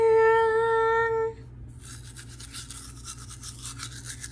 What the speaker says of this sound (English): So brush with me. And I've been brushing for a little bit now.